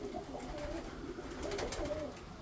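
Soft, repeated cooing of several pigeons close by, low rolling calls overlapping against a steady background hum.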